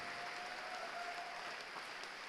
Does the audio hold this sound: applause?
yes